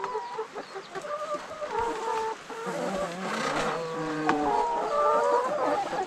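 Chickens on a rural Thai farm cluck and squawk at feeding time, close and lively, with overlapping calls rising and falling continuously, no talking.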